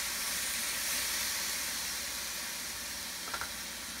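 Soy sauce hitting a hot pan of melted sugar for Filipino humba gives off a steady, loud broadband sizzle and hiss throughout, with a brief extra spatter near the end.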